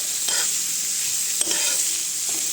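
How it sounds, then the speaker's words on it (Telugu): Chopped beetroot fries in an open pan with a soft, even sizzle, interrupted by a few scraping stirs and one sharp clink of a utensil against the pan. "4-5 మినిట్స్ ఫ్రై అవ్వనిద్దామండి"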